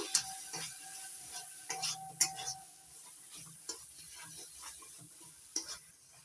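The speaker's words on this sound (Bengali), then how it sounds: "এবার সব কিছু দিয়ে মশলাটা ভালো করে কষিয়ে নেব।" Masala with Kashmiri red chili powder being sautéed in a pan for a jackfruit chicken curry, heard as a quiet sizzle under sporadic spoon scrapes and taps against the pot.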